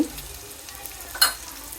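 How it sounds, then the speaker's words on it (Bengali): Chopped onions fry in hot oil in a pan with salt, cardamom, cinnamon and bay leaves, giving a soft steady sizzle with a brief scrape of stirring partway through. "একটু নেড়ে লবণটাকে মিশিয়ে নিচ্ছি পেঁয়াজটাকে একটু ভেজে নিলাম"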